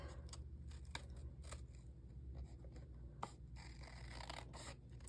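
Quiet, close snipping and rustling as scissors cut through paper in short irregular strokes, with soft crinkling in between.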